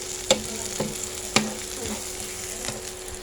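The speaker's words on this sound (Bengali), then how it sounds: "প্রথমে আমি এখানে পেঁয়াজ এবং মরিচ ভেজে নিচ্ছি" Onion and chili frying in a pan for an egg and lemon vermicelli (semai) dish, with a steady low sizzle broken by a few sharp utensil scrapes and clinks of stirring.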